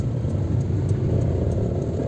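Steady low engine rumble from inside a car crawling through heavy road traffic on the way to Lipa, Batangas, constant and even with no talking.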